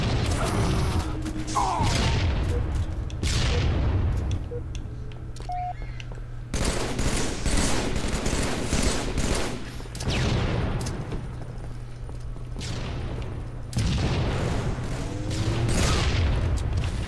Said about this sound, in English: is that guy shooting two carbines at once?